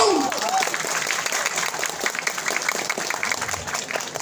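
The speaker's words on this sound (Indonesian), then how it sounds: "tepuk tangan dong" Crowd clapping at a Balinese calonarang performance at Pura Penataran Penglumbaran, a lively, uneven patter of many hands with a voice briefly heard at the start.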